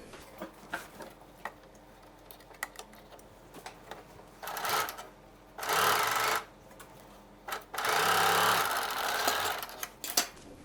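Sewing machine stitching fabric for a vintage-inspired panty: two rapid bursts of rattling stitching, each a second or two long, between quiet clicks and handling of cloth, close by with no talking.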